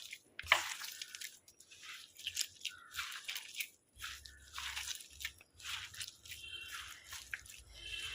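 Bare hands squeeze and knead grated coconut paste together with fish for a fish peera in a home kitchen, making close, irregular wet squelches and gritty crunching rustles with short pauses between strokes.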